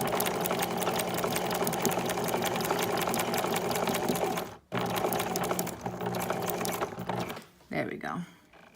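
A non-computerized sewing machine stitches a monogram letter M, a fast steady mechanical chatter up close that stops briefly midway and again near the end, where a voice speaks.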